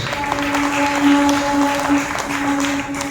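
Church congregation clapping together, loud and steady throughout. The dense, continuous applause carries a sustained tonal hum beneath it, likely from music or an organ.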